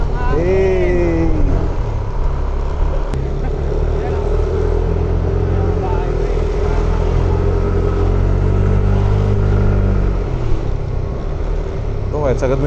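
Motorbike engine held at full throttle on a Boracay road trip, a steady loud drone with a brief rising rev near the start, wind rush throughout, and voices talking over it at times.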